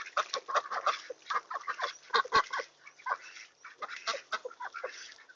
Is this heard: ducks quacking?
yes